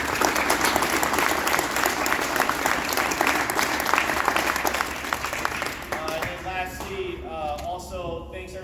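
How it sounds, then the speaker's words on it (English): A crowd at a high school football awards banquet applauds steadily for several seconds, the clapping thinning out near the end as a voice begins talking over it. "let's go and give everybody a round of applause"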